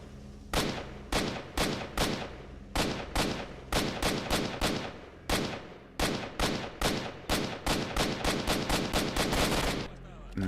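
Repeated bursts of automatic gunfire from the video game STALKER, loud and close, in rapid clustered volleys of shots with brief gaps, running nearly continuously throughout with no talk over it.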